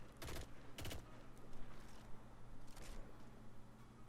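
Disrespectful Stare weapon in Destiny 2, fired without counterbalance mods: two sharp shots near the start and another burst toward the end, over a steady low hum of game ambience.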